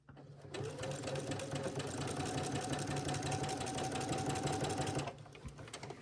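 A sewing machine runs steadily for about five seconds, stitching a 2.5 mm seam with a 5/8 allowance on a medieval-style men's vest, with a constant whir that stops abruptly near the end.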